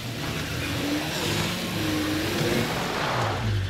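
A car in State of Decay 2 drives with a loud, continuous engine rumble and revving, holding a steady level throughout with slight rises in pitch.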